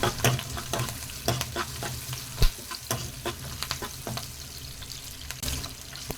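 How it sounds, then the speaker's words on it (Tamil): Onion and curry leaves sauté in a hot pan for rava kichadi, a steady close sizzle broken by sharp scraping stirs and clinks of a spatula, with a faint trickle of water in the background. "இப்போ இதை நல்லா வதக்கிக்கலாங்க."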